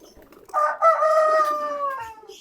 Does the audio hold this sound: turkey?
yes